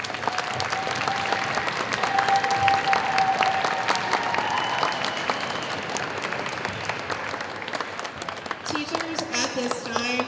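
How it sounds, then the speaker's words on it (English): A school Veterans Day assembly audience claps at length, a steady, moderately loud wash of applause with faint voices and crowd murmur mixed in throughout. "And once again, let's give a round of applause to our speaker, Chief Kumar."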